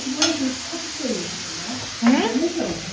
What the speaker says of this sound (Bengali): দেখো বেগুন আর বড়ি মিশিয়ে দিয়েছি, এবার একটুখানি আর একটুখানি ভাজা ভাজা হোক